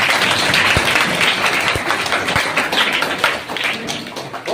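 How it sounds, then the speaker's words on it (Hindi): Children clap together in a dense, loud burst of applause in a school traffic-rules session, steady throughout with no talking over it. "Yes, licence, Tali बजाइए।"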